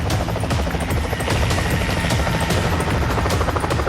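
Rescue helicopter hovering low during a winch operation, its rotor producing a loud, continuous, pulsing thump and roar throughout.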